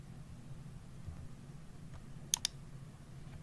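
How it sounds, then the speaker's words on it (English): Two quick, faint computer mouse clicks sound close together in a quiet room over a low background hum. "We can do so by right-clicking and clicking Pass."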